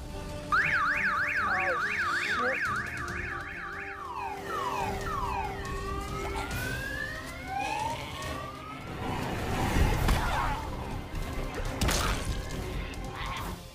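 A car alarm blares in a scene from The Walking Dead season 3, cycling through several warbling and whooping siren patterns that sweep up and down, loud and close, with crashing impacts and commotion building toward the end.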